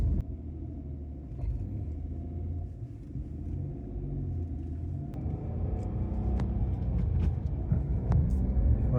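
A Dacia Duster drives along a sandy road, its engine a steady low rumble from inside the cabin with tyre noise and occasional small knocks and rattles, no talking.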